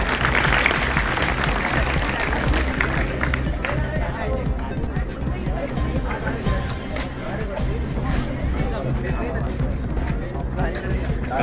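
Sustained applause from a crowd at a school felicitation ceremony in Jalna, thick and steady throughout with a busy hubbub of voices mixed in.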